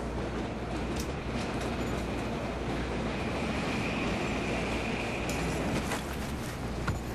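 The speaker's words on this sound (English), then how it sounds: "There's the train." A passing train in the video game Battlefield 3 rumbles loudly and steadily throughout, a dense continuous rolling roar of rail cars with faint metallic squeals near the end, heard alone.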